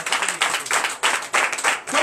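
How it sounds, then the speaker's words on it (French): A church congregation at a Sunday service in Comè, Benin claps and cheers in uneven bursts, with voices rising through the noise over two seconds. "Donnez l'acclamation à Jésus."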